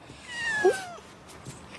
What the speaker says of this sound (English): Come here, Puss.